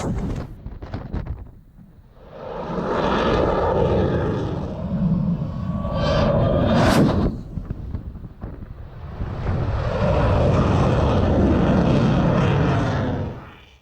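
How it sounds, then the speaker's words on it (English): A U.S. Navy Blue Angels fighter jet passes overhead at an air show, a loud sustained roar that swells, dips briefly, then builds again into a long rushing blast with wind buffeting the microphone. "Meet the U.S. Navy fighter jet called the Blue Angel."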